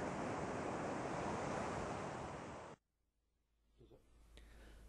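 Surf rolls onto an eroding sandy beach on Karatsu Bay's Hamasaki shore in Saga, Japan, a loud, steady wash of breaking waves that cuts off abruptly partway through, leaving only faint wind and distant surf.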